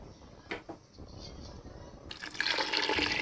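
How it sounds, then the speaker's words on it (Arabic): Water pours into a pot of harira soup, a soft splashing fill that swells louder and steadier after a faint start with a few light knocks. "وكندير الماء"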